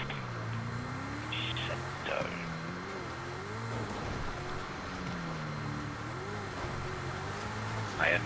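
A car engine in GTA V revs and accelerates in bursts, its pitch sweeping up and down across the clip, with people talking over it throughout.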